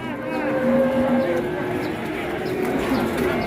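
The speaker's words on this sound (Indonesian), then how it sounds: "Wah, sapi galak, Mas." An aggressive cow lows in long, drawn-out moos, one strong call early followed by a weaker trailing one, heard from a short distance amid outdoor background noise and other animal sounds.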